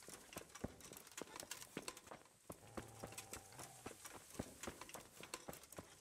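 A horse in the video game Kingdom Come: Deliverance clip-clops steadily along, with quick, fairly even hoofbeats, faint and a little distant, and a brief low tone partway through.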